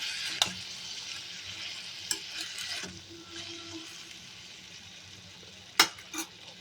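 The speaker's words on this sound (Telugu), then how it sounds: "ఇప్పుడు ఇవి వేగుతున్న దాంట్లోకి తీసుకున్న టమాటా ముక్కలు వేస్తున్నాను" Beetroot and tomato pieces frying in a pan for beetroot chutney, a steady soft sizzle with a few sharp clinks of a utensil against the pan, near and alone with no talk.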